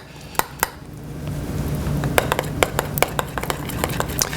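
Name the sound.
stirring zucchini noodle sauce in a pan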